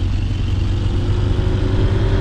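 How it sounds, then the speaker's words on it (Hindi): A car engine runs steadily in a car showroom video game, a continuous low hum at an even idle with no revving peaks and no voices over it. "गाड़ी स्टार्ट हो चुकी है लंबी।"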